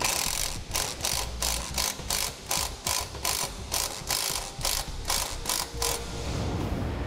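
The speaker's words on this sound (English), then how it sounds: "I'm just going to take a self-tapping screw, get it loosely in place, and come back with a nut driver" A nut driver turns a self-tapping screw in to secure a Deka quarter-inch heat shrink ring terminal, giving a close, steady run of rapid ratcheting clicks in regular bursts for several seconds with no talking.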